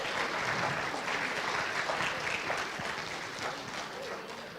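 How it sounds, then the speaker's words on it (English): At a high school college signing day, an audience claps in a dense, even wash of applause that holds steady and fades slightly toward the end, with faint voices underneath. "You guys can clap if you want to."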